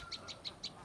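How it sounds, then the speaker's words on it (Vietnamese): A caught fantail sparrow in a garden gives four short, high chirps in an even rhythm, faint and close against quiet background noise. "đây là chú chim sẻ quạt mình vẫy được đấy"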